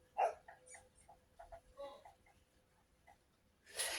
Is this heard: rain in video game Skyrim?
no